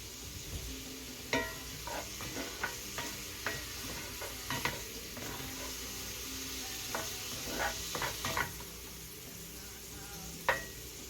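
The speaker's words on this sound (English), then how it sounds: "now I'm going to stir" A vegan Spam mixture with agave nectar is stirred, giving soft, repeated spoon clicks and scrapes in an uneven rhythm over a faint background hiss, quiet and close, with no voices.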